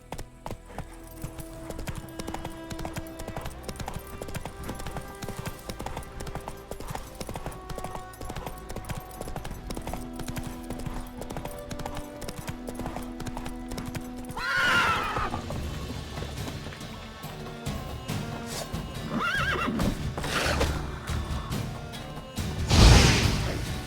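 Horse hooves clip-clopping at a gallop with loud neighs and whinnies in The Witcher 3 video game, steady hoofbeats under game music with a sharp whinny near the end.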